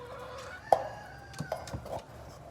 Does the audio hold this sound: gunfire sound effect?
no